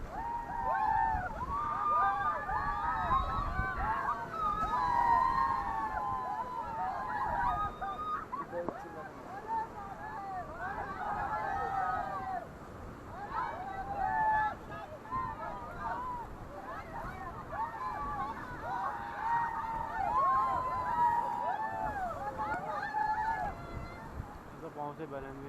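River raft on rapids at Rishikesh, paddles working against rushing water as wind buffets the microphone, with people shouting to each other throughout over the steady churn.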